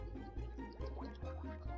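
Liquid splashing from a water potion in the video game Wacky Wizards, with soft repeated dripping and gurgling bursts recurring about every half second, quiet and close.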